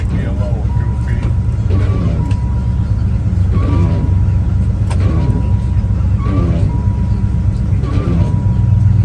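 A 1984 Dodge Power Ram 150 pickup with a used 318 engine runs steadily, a loud, continuous low rumble that carries under someone talking throughout.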